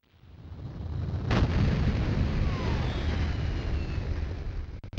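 Explosions from the first-person shooter Duke Nukem 3D: a sharp blast lands about a second in, then a loud, dense rumble of fire and blasts rolls on without a break, ending in a few clipped pops.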